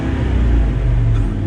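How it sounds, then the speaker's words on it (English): A V10 truck engine accelerating, a loud, steady low rumble with a smooth, even growl heard up close for a short burst, with no talk over it. "Listen to that V10 purr."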